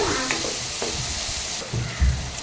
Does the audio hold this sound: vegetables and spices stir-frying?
yes